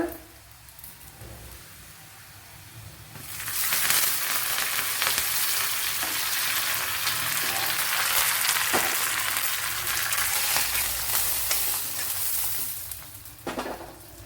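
Curry leaves dropped into hot oil for a breakfast curry burst into loud, crackling sizzling that holds steady for several seconds and then settles, with brief scraping sounds before and during.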